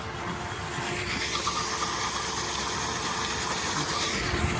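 An EGO POWER+ electric riding lawn mower travels along a road under cruise control, giving a steady hiss-like motor whine with constant rolling noise and no pauses.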